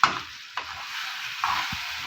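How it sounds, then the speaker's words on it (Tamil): Chicken stirred into a thick masala gravy in a pan: a few close, scraping stirs about half a second apart over a soft, steady sizzle. "சிக்கன் போட்டு நல்லா அந்த மசாலாலாம் கலங்கி வர மாதிரி கலக்கி விட்டுடலாம்."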